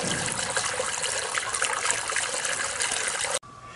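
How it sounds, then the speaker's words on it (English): Diesel fuel pours steadily into a five-gallon jug, a continuous liquid gushing and trickling that runs unbroken before cutting off abruptly near the end. "we're adding some of the diesel to the mix"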